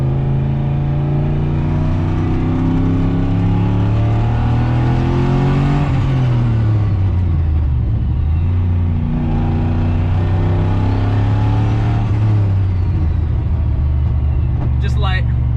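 Pontiac GTO cruising on the road, with a loud, steady engine rumble whose pitch rises and falls through gear changes and throttle, up close from inside the car.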